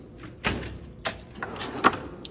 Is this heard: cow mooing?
no